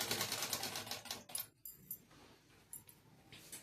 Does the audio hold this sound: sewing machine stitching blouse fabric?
yes